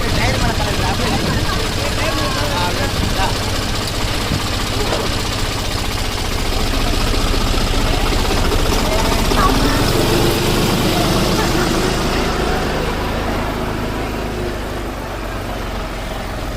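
A tractor carrying fishermen chugs along on a ride with a loud, steady engine drone and rattle that swells and then eases, while people talk over it throughout.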